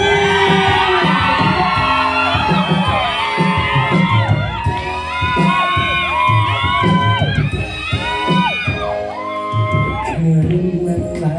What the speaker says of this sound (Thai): เสียงกรี๊ดดังๆสักที